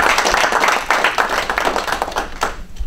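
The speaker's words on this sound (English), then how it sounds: "We should give that a round of applause." Audience applause after a remark in a Senate ethics reform event, a dense burst of clapping hands filling the room for about three seconds, steady and close, thinning slightly toward the end.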